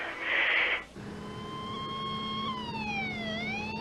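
An ambulance siren wails, rising and falling steadily at a moderate distance as it arrives, following a short burst of noise at the start.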